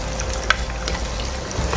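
Ginger and garlic sizzle in hot oil in a pan while being stirred, a steady frying crackle with a sharp scrape or clink near the middle and no talking.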